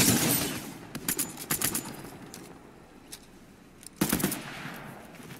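Bursts of rapid video game gunfire, sharp cracks in short clusters with quiet gaps between them, then a final louder burst; no talk.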